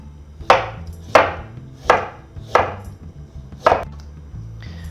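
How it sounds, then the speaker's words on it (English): A kitchen knife slices through fresh ginger on a cutting board, five crisp, evenly spaced chops close to the microphone with brief quiet gaps between them and no talking. "I'm gonna slice the ginger"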